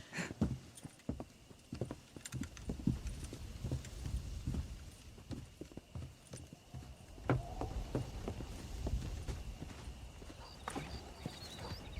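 Horse hooves clip-clop in the Red Dead Redemption video game during a horse-breaking scene, repeated hoof strikes in an uneven rhythm close by, with a horse whinnying now and then over a low ranch background.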